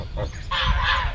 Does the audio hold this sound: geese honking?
yes